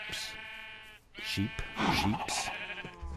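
Sheep in a video game bleat repeatedly in short wavering calls, several overlapping bursts close and fairly loud, while someone talks over them.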